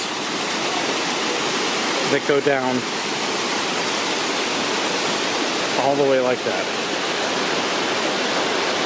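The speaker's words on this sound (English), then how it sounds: "Okay, so you got the waterfalls" A loud, constant roar of falling water fills the whole stretch, with a voice speaking briefly twice over the rushing noise.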